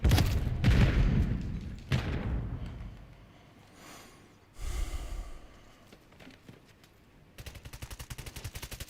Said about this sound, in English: Throwing grenades. Throwing a stun grenade.